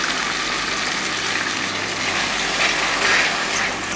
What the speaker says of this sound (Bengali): অল্প করে জল দিলাম